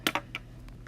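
A few quick, close clicks of keys being typed on a computer keyboard, three sharp taps followed by lighter ones over a faint hum.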